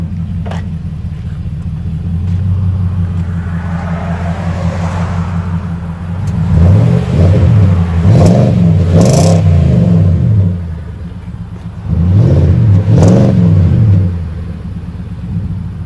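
Nissan Titan 5.6L V8 4x4 flex-fuel pickup with a Flowmaster Super 10 dual-in, single-out muffler and new tip, idling with a deep steady rumble, then revved hard in two bursts that rise and fall, close and loud.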